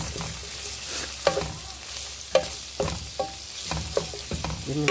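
Garlic and onion fry in a hot pan, a steady sizzle broken by several sharp scrapes and clacks as the pieces are stirred, close and fairly loud with no one speaking.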